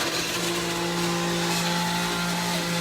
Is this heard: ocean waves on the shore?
no